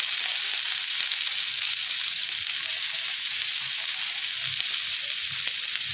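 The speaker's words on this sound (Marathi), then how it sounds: "तर तेल आपलं गरम झालं आहे. सर्वात पहिलं मी लसूण घालून घेते क्रश केलेली." Crushed garlic and ginger frying in hot oil for chilli paneer make a loud, even, hissing sizzle that holds steady the whole time, close up and without any voices.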